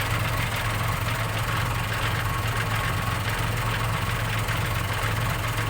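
A Fuso truck's diesel engine idles with a constant, close, loud rumbling drone and slight knocking texture, steady throughout with no voices.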